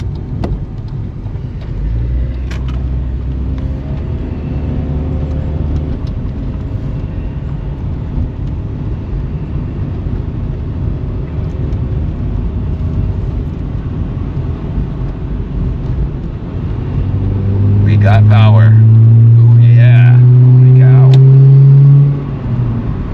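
Cheap automatic car climbing a hill after a misfire repair, a steady low engine drone with rising revs building to a louder strained pull near the end, voices talking over it.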